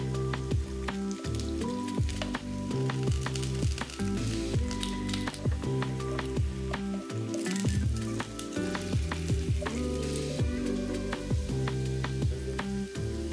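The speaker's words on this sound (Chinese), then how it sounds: "油热了， 现在就可以把土豆片放进去。" Potato slices frying in hot oil in a pan for a Sichuan pork belly and potato dish, a steady loud sizzle with crackles and occasional spatula scrapes and stirs throughout.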